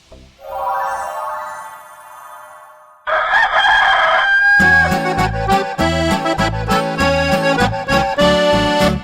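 A rooster crows loudly and clearly, its cock-a-doodle-doo rising then falling, before a bright, busy children's song bursts in and continues over the rest, with the crowing overlaid by music.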